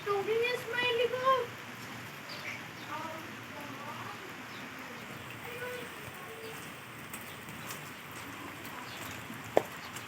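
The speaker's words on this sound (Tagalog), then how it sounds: "Naulan ho." Steady rain falling outdoors, a soft, even hiss running throughout, with a voice briefly at the start and a single sharp tap near the end.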